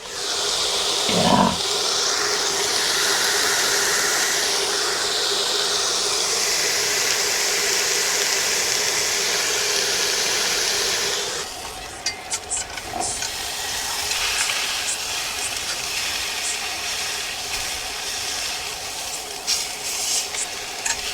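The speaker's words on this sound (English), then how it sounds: "Hear that sizzle? You hear that sizzle?" Food sizzles loudly in a hot pan while cold, windy winter truck camping, a bright continuous hiss that drops to quieter crackling partway through, with a brief word spoken.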